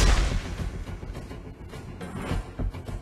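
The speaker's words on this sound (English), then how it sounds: "Our turret has been destroyed." Turret destruction in Mobile Legends: Bang Bang, a loud burst of booming, crackling game effects that starts strong and carries on with repeated thumps and impacts throughout.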